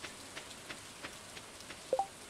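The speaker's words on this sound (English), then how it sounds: "Oh, it is raining on the island" Steady rain patters on the island in Stardew Valley, a soft continuous hiss with faint periodic droplet taps and two brief brighter blips near the end, quiet and without voices.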